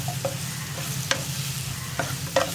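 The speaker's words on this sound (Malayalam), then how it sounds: "ക്യാപ്സിക്കം ചേർത്ത് ഒന്ന് നന്നായിട്ട് ഇളക്കുക." Chopped capsicum stirred in a hot pan, a constant sizzle with a few sharp spoon scrapes against the pan, close and unaccompanied by speech.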